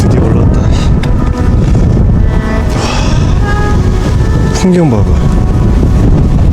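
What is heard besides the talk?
wind blowing on a mountain summit at night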